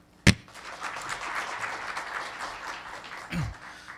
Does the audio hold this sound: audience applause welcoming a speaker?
yes